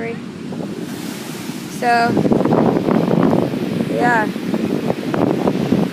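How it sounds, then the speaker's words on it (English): Big surf at El Porto on Manhattan Beach, near a refinery, with heavy waves piling up and crashing in a steady broadband roar, strong wind buffeting the microphone, and someone talking briefly over it. "Pretty insane waves piling up on each other."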